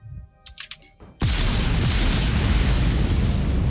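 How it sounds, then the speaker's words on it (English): A massive explosion in the space game Starbase bursts in suddenly after a few quiet clicks and tones, then rolls on as a loud, sustained roar and rumble with no voices over it. "that's a beautiful explosion"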